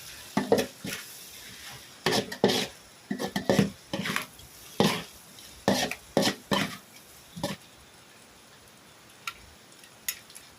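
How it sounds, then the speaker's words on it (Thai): Stir-fried soy sauce noodles with pork belly, dusted with pepper, being tossed in a pan: a close series of irregular spatula scrapes and metallic clinks that come in quick clusters, then thin out to a few isolated knocks. "คลุกเข้าให้เข้ากันสักหน่อยครับ"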